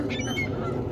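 Geese at Burke Lake, Virginia, honking loudly and continuously in a tight cluster close by during a feeding frenzy at twilight.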